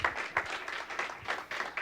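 A church congregation applauds during a worship service, broadband clapping sustained over about two seconds at moderate level, with no voices over it.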